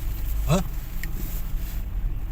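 A 1996 Toyota Corolla engine runs at a steady idle, a low continuous hum near the microphone, with a brief squeal-like chirp on top and no talking.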